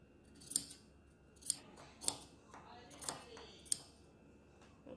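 Scissors snip through fabric while cutting out a collar piece for a batwing bubu gown, five crisp separate cuts spaced about a second apart, close and fairly quiet over a low room hiss.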